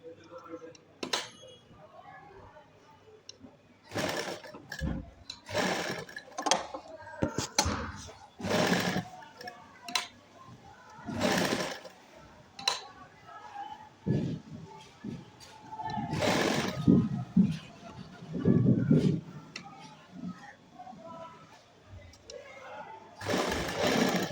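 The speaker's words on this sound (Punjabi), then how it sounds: "ਤੇ ਪੂਰੀ ਲੈਸ ਦੇ ਉੱਪਰ ਇਸੇ ਤਰ੍ਹਾਂ ਹੀ ਆਪਾਂ ਸਲਾਈ ਮਾਰ ਲੈਣੀ ਆ" A sewing machine stitches lace onto a garment neckline, running in repeated close bursts of rapid mechanical clatter separated by pauses, with a voice talking intermittently.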